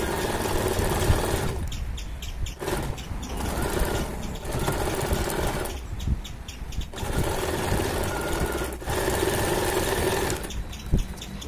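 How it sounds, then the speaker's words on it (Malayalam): A sewing machine stitches along the edge of a jacket-style kurti in loud, close bursts of rapid whirring, each lasting a second or two and separated by short pauses. "ഇനി നമുക്ക് ഇതിൻ്റെ അരികിനൂടെ ഒന്ന് സ്റ്റിച്ച് ചെയ്തെടുക്കാം."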